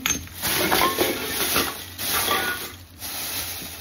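A metal lid drops into a can for recycling, giving a few bright metallic clinks and rattles over several seconds, close by and fairly loud, with no talking.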